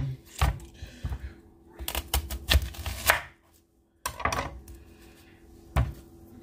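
Onion diced with a knife on a cutting board in a home kitchen, a burst of close, sharp chopping taps in quick uneven runs with a short pause, then a few more cuts.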